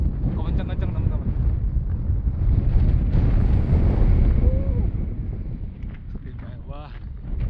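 Strong wind roars across a mountain summit on a hike up Arjuno-Welirang, a loud, buffeting rush that batters the microphone, swelling in the middle and then easing slightly, with faint voices in the background.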